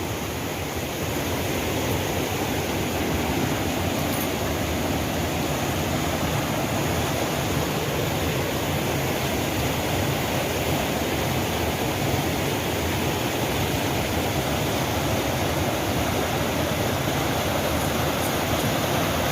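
Water pouring steadily over the spillway of Nong Wai Dam in Thailand, a continuous loud broadband roar with no breaks and no voices.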